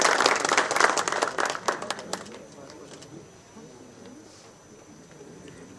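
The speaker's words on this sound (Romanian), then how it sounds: "Haideți să încurajăm cu rând de aplauze să iasă o poză frumoasă de confruntare acolo." An audience at a fight-show press conference in Targu Jiu bursts into lively applause for a face-off photo. The clapping lasts about two seconds, then thins out and fades into a quiet room hum.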